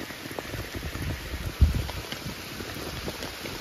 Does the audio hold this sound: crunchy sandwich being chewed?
no